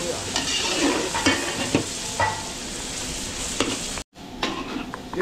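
Mixed seafood sautéing in a pan with garlic and onion sizzles steadily while a utensil scrapes and stirs in repeated strokes, with a brief dropout near the end.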